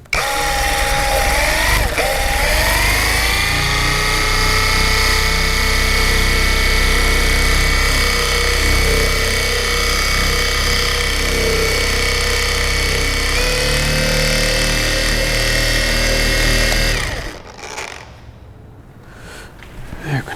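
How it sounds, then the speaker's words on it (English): A power sander with sanding discs works the paint on a Chrysler Crossfire, a loud steady whine that runs unbroken for most of the clip before cutting off and spinning down near the end. "Every once in a while you're going to have to change your sanding discs so the discs wear down quickly."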